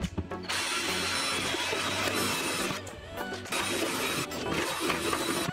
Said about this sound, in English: And I will just attach it to the drill.